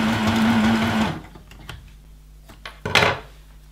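A sewing machine runs a zigzag stitch on a zip for a bomber jacket, a loud close whirring hum for about a second, then it stops, followed by light handling clatter.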